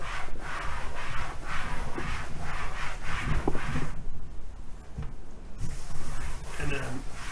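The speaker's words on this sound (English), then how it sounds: "using a wet microfiber towel, cleaning the surface really well" A wet microfiber towel wipes the surface of a vinyl tonneau cover in a series of rhythmic rubbing strokes, close and fairly loud, with a brief pause partway through.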